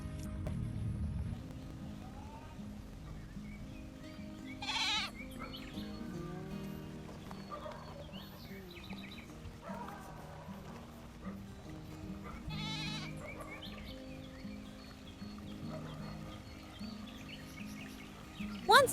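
A farm goat gives a couple of short bleats, one early and one later, set against a soft, steady musical backing with a livestock-like call standing out clearly each time.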